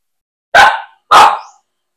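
Aspin mixed-breed street dog giving two sharp, loud barks close by, evenly spaced about half a second apart, with silence around them.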